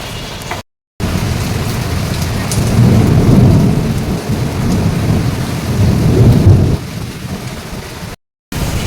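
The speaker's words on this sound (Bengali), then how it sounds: "দেখুন বৃষ্টি তো চেয়েছিলাম, আর এত আঁকা কথা শোনানোর পর বৃষ্টি তো দিল সাথে সাথে" Heavy rain pours down with rolling thunder during a summer storm at a home, a loud, continuous roar of rainfall with deep rumbles swelling and fading throughout.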